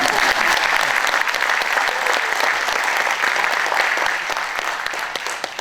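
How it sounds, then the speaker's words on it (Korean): An audience at the 38th-anniversary June 10 Democracy Uprising ceremony in Gangwon applauds steadily, a dense, continuous wash of many hands clapping that holds level throughout. "박수 한번 주세요."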